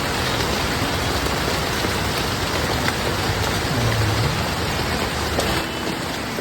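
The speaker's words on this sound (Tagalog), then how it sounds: "ito na ang ulan" Steady, dense rain pours down, a constant hiss of drops on surfaces with no voices.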